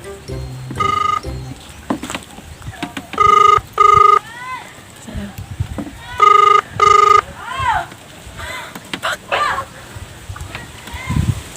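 A phone rings during a prank call, repeated pairs of electronic ring tones coming in bursts over several seconds, with people talking and murmuring between them.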